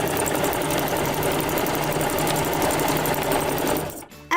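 A sewing machine runs steadily while stitching a straight line and backstitching. The motor whirs continuously for about four seconds, loud and close, then stops abruptly.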